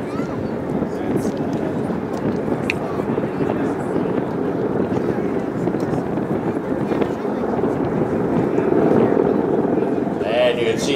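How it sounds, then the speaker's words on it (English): Marine Corps helicopters lifting off across the field during a MAGTF demonstration at the 2012 Joint Base McGuire-Dix-Lakehurst airshow, a continuous distant rotor rumble mixed with wind noise, with people talking over it. "you can see some of the helicopters leaving from the Marine Station across the field there"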